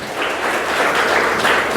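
A crowd at a Vishwakarma Day celebration in Faridabad claps in unison, a loud, dense, continuous round of applause with no voices over it.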